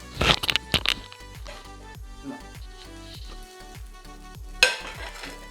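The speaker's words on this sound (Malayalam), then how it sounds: "2 കയ്യിൽ മാവ് ഒഴിക്കുകയാണ്. ഇനി ഇത് നല്ലോണം ഒന്ന് ചിറ്റിയിട്ട് ഒരു 3-4 മിനിറ്റിന് മൂടി വെക്കുക." Appam batter poured into a pan, swirled and left to cook: a few sharp scraping clinks at the start, then a steady soft sizzle with faint stirring sounds, close, and another brief metallic clatter near the end.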